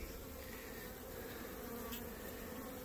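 Honey bees at a cutout hive with exposed brood comb, a soft continuous buzzing hum from many insects, fairly faint and steady, with no voices.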